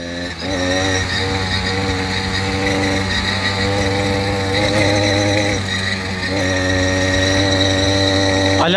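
Two motorized bicycles accelerating together on a road used by big trucks, their small engines droning loud and steady with rising harmonic tones, close and continuous throughout.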